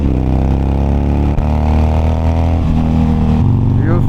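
Superbike engines, including a BMW S1000RR and a Kawasaki ZX10R, idle loudly and close by in a steady low rumble, with one brief rev near the end.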